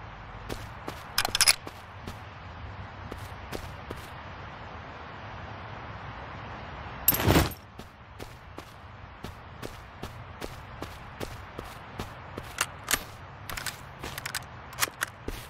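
Gunfire in a WW2 strategy video game: scattered sharp shots crack across the clip, with a dense burst around the middle and more isolated reports after it, over a quiet steady ambience.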